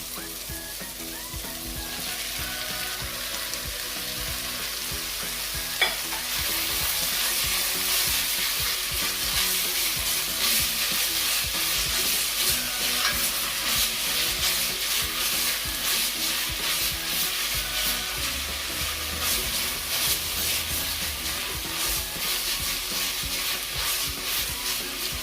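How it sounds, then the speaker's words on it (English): Ground beef and vegetables fry in a pan with a loud, steady sizzle. After a few seconds it swells into a dense, crackling hiss, with constant stirring and scraping throughout and no voices. "I'm going to go ahead and add my ground beef"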